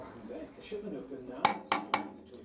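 A spoon stirs lactose into hot beer wort in a brewing pot for a creme brulee imperial stout at the end of the boil, striking the metal with three sharp clinks over a low background murmur.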